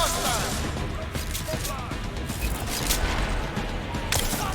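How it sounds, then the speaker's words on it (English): Police open fire in the video game Deus Ex: Mankind Divided, a dense, continuous clatter of gunshots and crashing impacts filling the whole stretch, loud and close, with chaotic game noise layered throughout. "Why are the police shooting me?"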